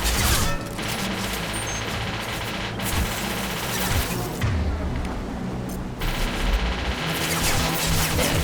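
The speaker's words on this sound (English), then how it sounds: "So I have to get out the rifle." Rifle fire in the video game Mass Effect 2: a loud, sustained barrage of rapid shots and booms that barely lets up, with short dips between bursts.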